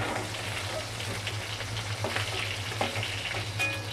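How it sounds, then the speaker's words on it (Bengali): Hilsa fish pieces from the Padma frying lightly in hot oil, a steady close sizzle with scattered crackles and a low hum underneath, no talking. "আমার বাকি মাছগুলোও ভাজা কমপ্লিট, এখন আমি এই বাকি মাছগুলো তুলে নেব"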